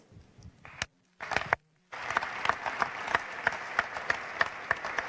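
A conference audience applauds a panel of political leaders. After a few scattered early claps and brief pauses, the applause swells into dense, steady clapping that carries on to the end.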